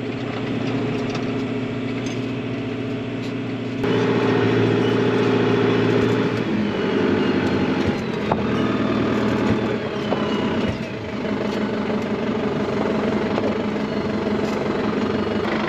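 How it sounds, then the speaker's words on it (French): A farm tractor engine runs steadily and loud at close range, rising in intensity as it starts moving, with a continuous rumbling drone throughout. "on va prendre le tracteur, le démarrer et aller jusqu'à l'enrouleur."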